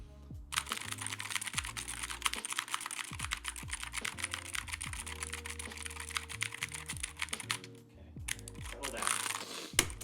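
Rapid, clicky typing on a mechanical keyboard with blue switches, a dense run of sharp keystrokes close up, with a short pause near the end before the tapping resumes.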